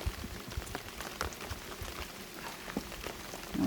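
Light rain patters on beehive frames in irregular drops and soft taps, faint and close, with no talk.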